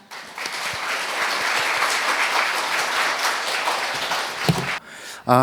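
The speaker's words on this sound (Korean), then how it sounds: "더 큰 박수로 맞이해 주시기 바랍니다" A large conference audience applauds steadily and loudly for several seconds as a speaker is introduced, then the clapping cuts off abruptly.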